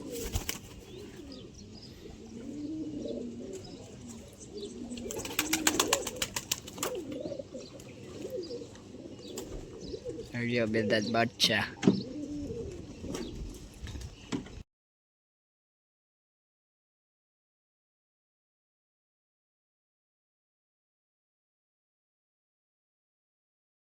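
Pigeons coo repeatedly at a friend's house, a steady run of soft, rolling calls close by, with a few brighter bursts and some rustling before the sound cuts off partway through.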